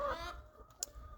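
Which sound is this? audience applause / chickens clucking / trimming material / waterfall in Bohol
chickens clucking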